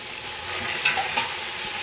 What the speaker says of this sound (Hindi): इसको जो है हम 2 से 3 मिनट भून लेंगे